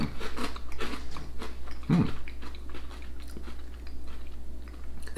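Close, crisp crunching and chewing of a crunchy Thai caramel garlic snack, with steady brittle crackles running throughout and a louder bite near the middle.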